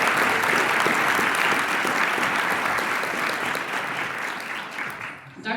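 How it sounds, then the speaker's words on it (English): Dense, loud applause from an audience for students at an MLK Day event, a continuous roar of many hands clapping that fades slightly near the end. "So let's give them a round of applause."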